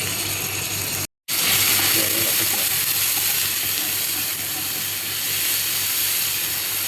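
Onion and garlic sizzling in hot olive oil, a loud steady hiss and crackle that cuts out briefly near the start, then resumes and carries on evenly.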